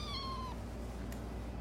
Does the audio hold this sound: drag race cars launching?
no